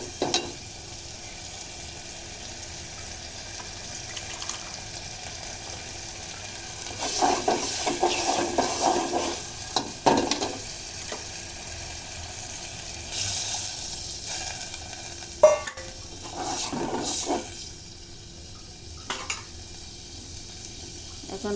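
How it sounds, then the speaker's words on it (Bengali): Masoor dal khichuri being stirred in a pot as water is poured in: intermittent scraping and sizzling bursts rise over a steady low hiss, with a sharp clink near the middle. "এখন নেড়ে চেড়ে একটু জল দিয়ে দিব,"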